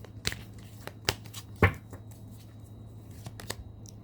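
Slippery tarot cards being shuffled by hand, a few brief papery riffles and slaps spaced across a quiet room, close and soft with low background hum.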